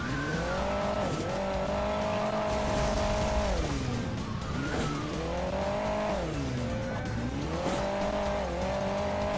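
A rally car in the Hill Climb Racing 2 mobile game, its engine droning and revving in repeated rising and falling sweeps, steady and loud throughout with no talk.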